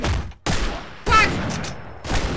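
Gunshots in the Postal 2 video game, three loud sharp blasts in quick succession, each cutting off abruptly, close and dominant.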